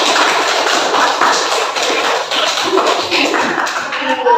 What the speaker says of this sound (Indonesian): kasih aplaus buat kelompok